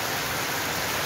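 Heavy rain falling in Jamaica, a loud, dense, continuous hiss of downpour with no gaps and no voices.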